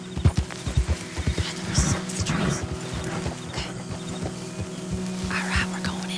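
Horse hooves clip-clop at a quick gallop across a trail in the video game Red Dead Redemption 2, with a brief whinny and a soft voice over the steady hoofbeats.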